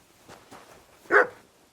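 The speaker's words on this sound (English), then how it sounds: "Barking." A single dog bark in the video game Kingdom Come: Deliverance 2 rings out clearly after a couple of faint, muffled sounds, fairly close and brief, with quiet ambience around it.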